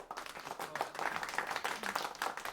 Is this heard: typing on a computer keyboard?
no